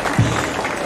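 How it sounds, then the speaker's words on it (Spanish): Short burst of audience applause at a criollo parade event in honor of a guest, steady clapping throughout with a brief louder swell near the start. "un aplauso, métale un aplauso a Lucas Arce nomás"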